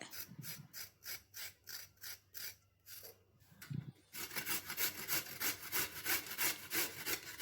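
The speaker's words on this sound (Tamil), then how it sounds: "இப்போ இந்த மாதிரி திருவறதுல திருவி எடுத்துக்கலாம்." A carrot is scraped by hand down a grater, with regular rasping strokes about twice a second, close and crisp. After a brief pause the strokes come back faster and louder.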